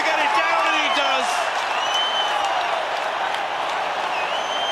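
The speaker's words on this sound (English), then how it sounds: "that has got this Durban crowd jumping now" Durban rugby crowd roaring for a Springbok try against England, a dense continuous cheer and applause filling the stadium at steady loudness, with a commentator's voice over the top.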